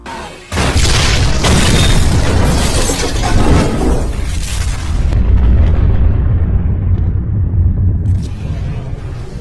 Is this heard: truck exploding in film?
yes